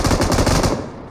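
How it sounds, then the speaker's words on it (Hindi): Rapid automatic gunfire from a shooting video game rattles in a dense, loud burst for about a second, then cuts off and fades. "काफ़ी ज़्यादा फायरिंग कर रही थी"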